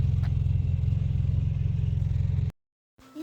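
An ATV engine runs on farm trails, a loud, close, rumbling low chug with steady pulsing, cutting off abruptly into silence before a faint bit of noise returns.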